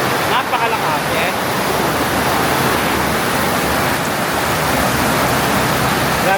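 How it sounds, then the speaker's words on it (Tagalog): Heavy rain pours steadily in Siem Reap, Cambodia, a loud, dense, unbroken wash of falling water close by, with a voice briefly audible beneath it. "Grabe, lakas ng ulan."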